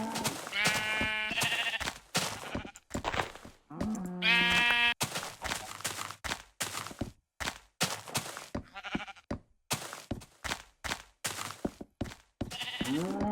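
Sheep bleats from the video game Alphaville sound repeatedly, mixed with short thuds and clicks, the bleats loud and close with brief gaps between them.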